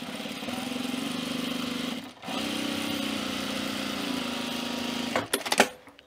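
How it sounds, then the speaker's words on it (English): A sewing machine runs steadily while edge stitching a pressed flat felled seam. The close, even mechanical whir breaks off briefly, then resumes and ends in a few handling clicks. "we're just going to edge stitch this fold down, just like we're hemming it"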